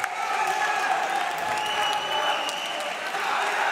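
A large crowd at a Yu-Gi-Oh YCS Utrecht tournament final bursts into loud, sustained applause and cheering, a dense unbroken roar filling the hall.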